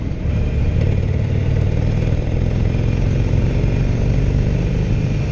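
A 2016 Harley-Davidson Roadster motorcycle engine roars loud and close, a steady, dense rumble held at high revs throughout with no pauses.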